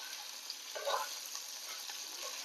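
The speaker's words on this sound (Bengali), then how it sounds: "পনিরটা হালকা করে ভেজে আমি এই নুন জলের মধ্যে ডুবিয়ে দেব" Paneer pieces lightly frying in a pan give a steady, soft sizzle with a brief louder crackle partway through, and no voices.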